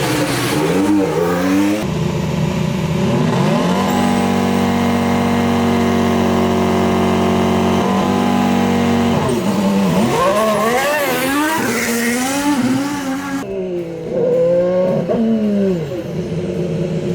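A 2018 Ferrari Formula 1 car running on a track during a private test, its loud high-pitched engine revving, holding steady and then rising and falling through gear changes as it passes close, with no talk.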